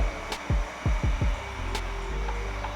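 A heat gun warms window tint film with a steady airy blowing hum, broken by several short low thumps close by.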